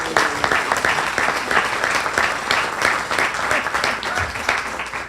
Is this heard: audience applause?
yes